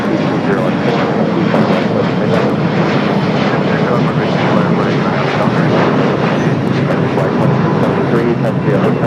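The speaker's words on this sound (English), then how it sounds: "here comes Air Premia, the Dreamliner that we saw arrive there on the north side, heading over there to Tom Bradley" An Air Premia Boeing 787 Dreamliner taxis at LAX toward Tom Bradley terminal, a steady broadband engine rumble with faint clicking ticks over it, while someone talks throughout.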